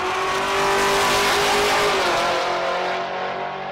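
Camaro drag race car at a race-week event, engine roaring loud and close as it revs and accelerates, a sweeping high note rising then fading as it pulls away.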